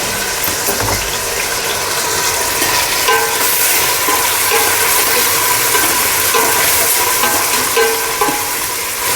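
Tomato frying in a pan for a Telugu-style fish curry, a loud, continuous sizzle with occasional scraping and clicking from stirring, with no talk.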